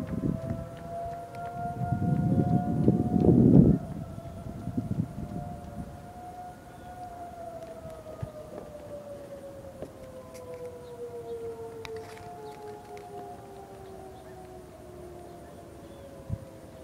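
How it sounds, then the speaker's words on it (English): Several Federal Signal 2001 tornado sirens heard far off during a monthly test, their overlapping wailing tones gliding slowly downward as they wind down, with a louder rumbling burst early on before fading to a low drone. "You can hear all the 2001s in the distance."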